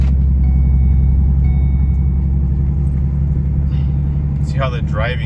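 Steady close engine and road rumble inside a rebuilt 2012 Ford Mustang on its first drive, a continuous low drone with a brief voice near the end.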